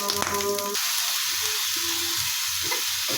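Dried chili frying in hot mustard oil, making a loud, dense, continuous sizzle and crackle close to the mic, with a brief clatter of utensils right at the start; no speech.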